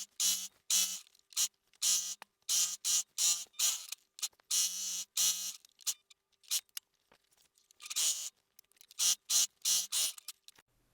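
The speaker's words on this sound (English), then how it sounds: "I'm also going to serge from this divot right here, up and around on both of the sleeves" A serger sewing machine overlocks shirt sleeve seams while sewing a McCall's M6932 shirt, running in quick, rhythmic bursts of whirring stitches separated by short pauses, close and fairly quiet.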